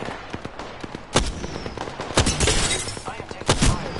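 Gunfire in a video game match, with sharp shots bursting out in short clusters over continuous background rumble and distant battle noise, fairly loud and close.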